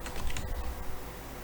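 Rapid keystrokes clatter on a computer keyboard for about a second, a quick close burst of typing with no voices.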